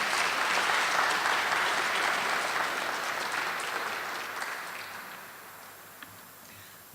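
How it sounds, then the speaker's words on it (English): A room full of people applauds at a Stand Against Racism gathering, loud and dense at first, then gradually thinning and fading toward the end with a few scattered final claps. "Let's give him another round of applause."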